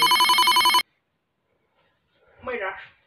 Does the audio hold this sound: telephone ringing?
yes